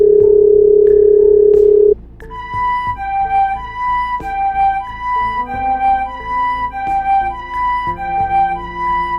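A steady electronic telephone tone drones for about two seconds, then gives way to a series of beeping tones in an uneven pattern, loud and close.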